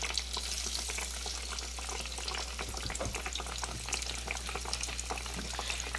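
Eggplant slices sizzle in a skillet for eggplant parmesan, giving a steady, dense crackle and hiss that holds evenly throughout with no voices.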